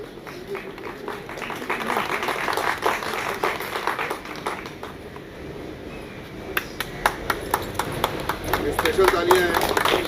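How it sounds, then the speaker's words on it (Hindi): Applause at a television serial launch event, scattered clapping with sharp individual claps standing out, while people talk over it and a crowd murmurs throughout. "स्पेशल तालियां हैं।"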